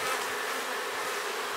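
Queenless honey bees hum in an opened hive, a dense, close and loud continuous buzz with no pauses or voices.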